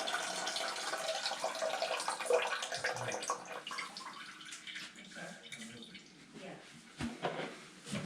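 Leftover tank water from a toilet trickles and splashes into a bucket held under the bowl during a fill valve and flapper repair, a steady watery rush that thins out toward the end under some faint talk.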